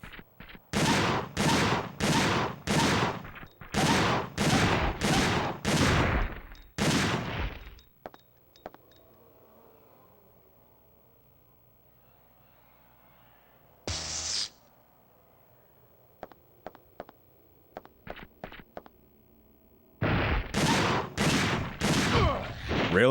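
Bursts of gunfire from the Dino Crisis 2 video game come in two loud clusters of rapid shots at the start and end, with a short burst and scattered clicks in the quieter stretch between.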